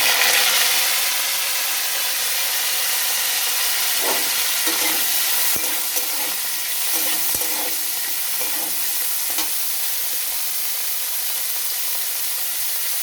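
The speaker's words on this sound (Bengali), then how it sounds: "এবার আমি ফুলকপিগুলোকে ভেজে নেব।" Cauliflower frying in hot oil in a pan, a steady loud sizzle with occasional stirring scrapes and clicks, close and continuous with no talking.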